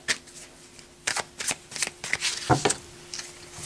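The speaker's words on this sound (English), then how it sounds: "Shuffle the oracle a little bit." Oracle cards being shuffled up close: a run of quick papery riffles and soft flicks, irregular bursts over a faint steady hum.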